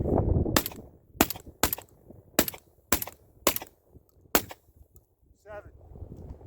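A Panzer EG200 shotgun fires Winchester Expert 1-ounce game loads at a regular pace: about seven sharp, cracking reports at fairly even intervals, with a low voice and background noise between shots.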